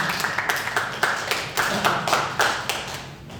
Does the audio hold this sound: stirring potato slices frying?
no